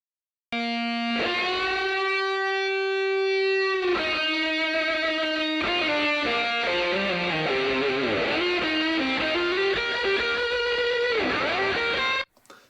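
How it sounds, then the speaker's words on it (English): An electric guitar plays a sustained, singing solo line with bends and held notes, dry and upfront, no talking. "I'll play the guitar solo without the reverb first so you can hear what it sounds like"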